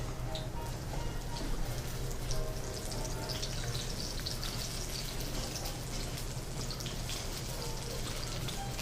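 A zucchini burger patty sizzles in a pan, with a steady, even crackle and hiss that holds throughout at moderate volume.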